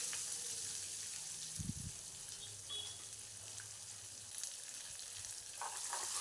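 Onions sizzle and fry in a pan for sambar, a soft continuous crackle with occasional stirring clatter and a brief knock, heard close with no talking.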